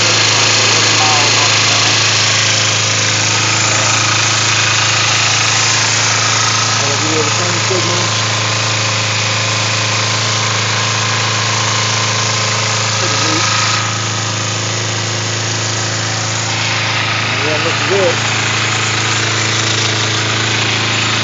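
A 2006 Kawasaki Ninja, a small motorcycle, idles steadily close by. Its loud, even hum holds unbroken for the whole stretch.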